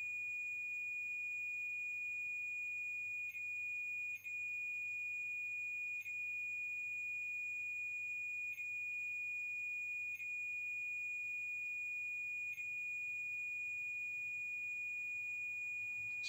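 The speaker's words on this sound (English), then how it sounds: "So 1 beep for yes, 2 beep for no." A ghost-hunting device emits a steady high electronic tone with faint, irregularly spaced beeps across about sixteen seconds, with no voices.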